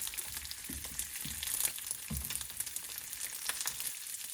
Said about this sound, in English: Ah, listen to that sizzle.